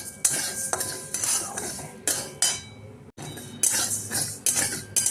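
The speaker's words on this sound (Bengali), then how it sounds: "প্রথমে মুগ ডালটাকে শুকনো কলায় ভালো করে ভেজে নিচ্ছি" Metal spatula scraping and clinking against a pan in quick, repeated strokes as dry mung dal is dry-roasted, loud and close, with no talk.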